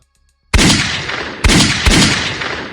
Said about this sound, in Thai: เสียงปืนต่อสู้ สนั่นบันไว้ในใจกลางกรุงโซล